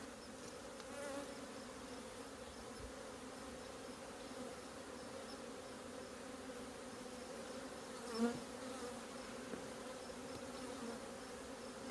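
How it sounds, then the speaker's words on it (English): A dense, low buzzing of many bees in a hive box, steady and continuous, with a brief louder bump partway through. "So a lot of bees in the box still. I see lots of bees in here."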